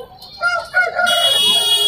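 Rooster crowing at a village poultry market selling country chickens, one loud close cock-a-doodle-doo rising and holding strongly over faint background noise.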